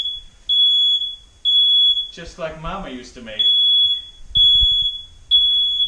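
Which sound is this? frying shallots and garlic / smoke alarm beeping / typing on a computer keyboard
smoke alarm beeping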